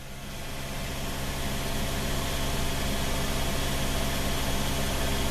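A car engine runs steadily at idle during a cylinder balance test, a continuous broadband hum and drone that holds an even level after a brief rise at the start, with no voices over it.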